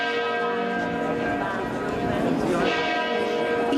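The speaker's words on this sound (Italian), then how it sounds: "Il suono delle campane" Church bells ringing from a cathedral or parish tower in the Veneto, a sustained ringing wash of overlapping tones with a swell of strikes near the end.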